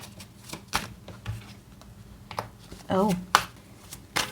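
Tarot cards shuffled and drawn, a series of quick papery riffles and flicks close by, with someone speaking between them.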